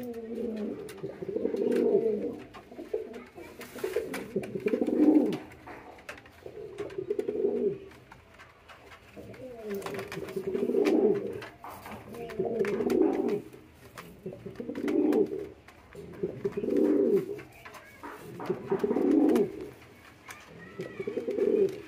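Pigeons cooing close by in repeated rolling phrases every couple of seconds, soft and low, continuing steadily over faint background noise.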